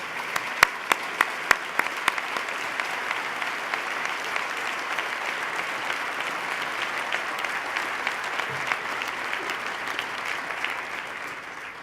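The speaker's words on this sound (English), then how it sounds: "Please stand, gentlemen, so we can give you a round of applause." A large audience at Governor Cuomo's 2014 State of the State address gives sustained, even applause lasting about twelve seconds, with a few sharp, close claps standing out early on.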